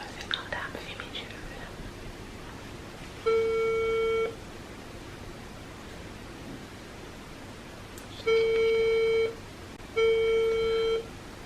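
A phone rings out while a friend is called back: three long, even ringback tones separated by pauses, with quiet whispered speech in the background.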